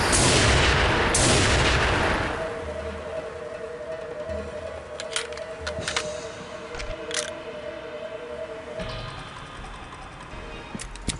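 Gunfire in the PC shooter Soldier of Fortune II: Double Helix, a loud booming report at the start followed by a second blast, then quieter scattered sharp shots and a steady tonal hum trailing behind.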